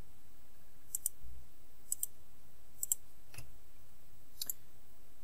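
A mouse button clicks quietly several times in a near-silent room, mostly in quick double taps spaced about a second apart, as a Planyway Planner button is pressed in Trello.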